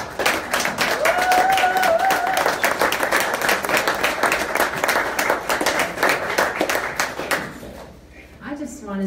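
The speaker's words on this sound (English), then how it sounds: "A nice big round of applause." Sustained applause from a crowd at a symposium gathering, dense steady clapping that carries on for several seconds before thinning out, with a voice briefly audible over it near the end.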